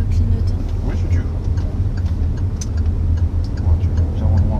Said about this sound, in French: Clignotant.